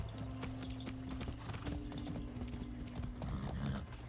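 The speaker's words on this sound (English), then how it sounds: "I like riding the horses." Steady, close clip-clop of horse hooves at a gallop while riding in the video game Far Cry 6, with a brief whinny, holding a continuous rhythm throughout.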